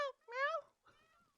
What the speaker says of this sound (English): Oh, it's a peacock. It's a peacock.